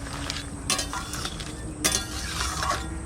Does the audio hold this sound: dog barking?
no